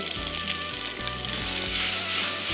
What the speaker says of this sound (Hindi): मग आता याच्यात आपण घालूया पेस्टो सॉस.